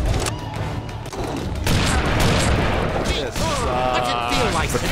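Railgun fire in the Family Guy: Back to the Multiverse video game, loud booming shots amid chaotic game explosions and effects, with a person talking over part of it.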